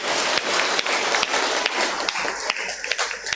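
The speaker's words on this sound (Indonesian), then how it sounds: "Tepuk tangan lagi buat teman-teman OMK Bapak Ibu." Audience applause for a youth choir at a church celebration of a priest's 20th ordination anniversary, a dense, steady wash of clapping with scattered sharper claps, fairly close and without speech.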